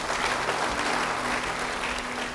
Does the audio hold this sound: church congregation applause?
yes